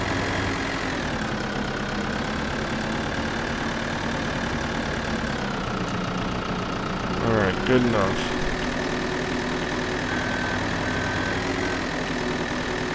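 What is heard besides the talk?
farm tractor engine at high idle, Farming Simulator 2013 video game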